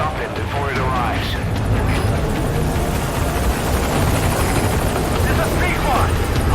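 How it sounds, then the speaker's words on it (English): The Pequod helicopter in the video game Metal Gear Solid V arrives at a landing zone, a loud continuous rotor roar filling the whole stretch, with voices speaking over it. "The Pequod, arriving shortly at LZ. I'll send the chopper."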